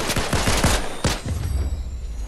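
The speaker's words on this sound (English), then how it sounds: "Where this dude's shooting me from." Rapid gunfire in Fortnite, several quick bursts of shots close together at first, then a sharp single burst, loud and near with no talking.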